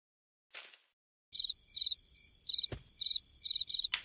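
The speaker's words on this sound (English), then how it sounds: "the sound of crickets means I don't think he's found his voice" Crickets chirp in bursts of short rapid pulses, fairly loud and close, repeating with brief gaps, with a single sharp knock partway through.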